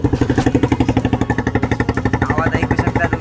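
A motorcycle engine with a silencer fitted runs nearby in a rapid, even chug of exhaust pulses, loud and steady throughout.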